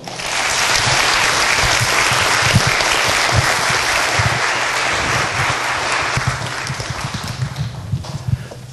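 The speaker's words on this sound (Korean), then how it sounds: "큰 박수로 맞아주십시오" A university student audience at a CEO lecture breaks into loud, sustained applause to welcome Hana Financial Group chairman Kim Seung-yu. The clapping holds steady for several seconds and then tapers off slightly near the end.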